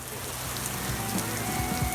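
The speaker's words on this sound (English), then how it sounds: "It's getting a little bit of a rain here." Rain patters steadily on a car driving toward Jasper in the Canadian Rockies, a dense close drumming over the low road and engine hum.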